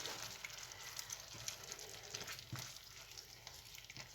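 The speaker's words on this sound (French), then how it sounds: "On remue un petit peu." Seafood sizzles faintly in a pan as it is stirred, a quiet crackling hiss with a few soft scraping knocks over about four seconds.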